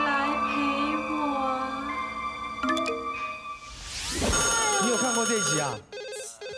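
A telephone rings with repeated electronic tones on a television variety-show set, mixed under lively talk from several people.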